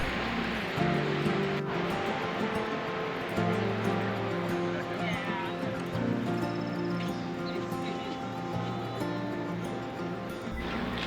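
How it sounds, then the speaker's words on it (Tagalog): Strong ocean waves crash and wash along the San Diego coast, a steady broad roar of surf with faint voices and outdoor activity in the background. "Napakalakas talaga ng wave dito."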